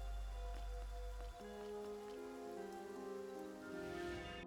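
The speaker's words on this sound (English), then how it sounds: "but it's raining" Steady rain pattering on surfaces in the video game Infinity Nikki, a continuous close wash of drops under a sustained musical tone and game chimes.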